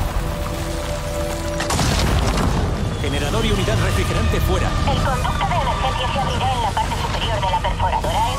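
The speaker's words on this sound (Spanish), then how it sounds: "Cuando recibes un impacto, los cohetes almacenados salen disparados y explotan al impactar" Stored rockets in the video game Avatar: Frontiers of Pandora launch and explode on impact, giving heavy booms and rumbling blasts under someone talking.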